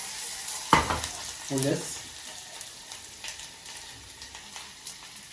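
A lamb chop sears in a hot pan on the stove, with a sharp hiss as it lands, then a steady sizzle under a brief spoken phrase.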